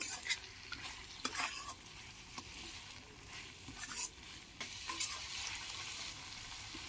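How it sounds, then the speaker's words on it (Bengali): Chicken masala being stirred in a pan after coriander powder is added, with steady scraping and soft sizzling throughout, close and moderately quiet, no talk. "দু চামচ মতো আমি ধনে গুঁড়ো দিয়ে দেবো এতে এবার এটাকেও ভালোভাবে মিশিয়ে নেব"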